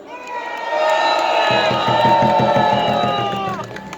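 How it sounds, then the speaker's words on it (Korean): At a candlelight rally, a large crowd whoops and cheers loudly, and rhythmic clapping joins in partway through before the noise eases off. "우리 이태원 유가족분들께 가장 따뜻한 응원과 격려의 박수 보내주십시오"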